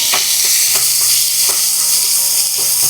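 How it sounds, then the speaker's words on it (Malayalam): Finely chopped onion sizzles in hot coconut oil with fennel seeds, a steady loud hiss broken by a few soft stirring scrapes, with no voices. "ഒരു വലിയ സവാള ചെറുതായിട്ട് കട്ട് ചെയ്ത് ചേർത്ത്"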